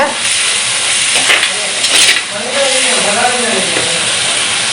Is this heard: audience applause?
no